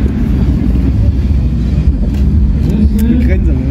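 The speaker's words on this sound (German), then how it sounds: "So klingt mein T6" A Volkswagen T6 van at a German quarter-mile drag racing event, its engine giving a loud, steady, low rumble that drones on without a break, with indistinct voices mixed into the din.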